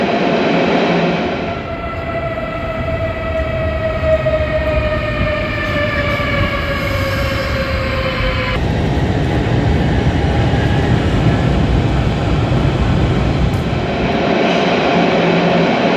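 Loud rumbling roar of a German ICE high-speed train with a descending tonal whine, continuous and close, like a train moving through a station.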